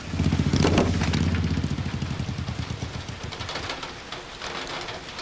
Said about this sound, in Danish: Åh nej, nu regner det.